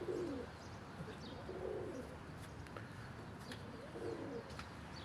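Pet pigeons coo faintly in short, soft, low bursts heard about three times against quiet outdoor background noise.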